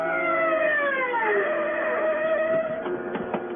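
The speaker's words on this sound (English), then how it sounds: "The siren gouges a path through the city swiftly like a wild saw trailing across the dark." A police siren wails with sliding, overlapping pitch sweeps, steady and fairly loud, passing through traffic noise without any talk.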